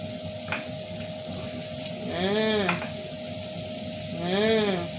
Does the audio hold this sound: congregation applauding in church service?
no